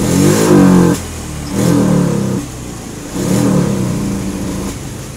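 A Honda Beat PGM-FI fuel-injected scooter is revved in three short bursts, its engine stumbling and sputtering as the throttle opens, then dropping back to a low idle between each one.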